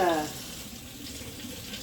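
Warm tap water runs steadily from a faucet into a sink or bowl while bread dough for hamburger buns is being prepared, a soft continuous splash heard close by with a brief voice at the start.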